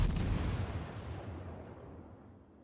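A US Omaha-class cruiser fires its guns at long range in World of Warships, producing a deep, booming salvo that rumbles and fades away over about three seconds, with no voices.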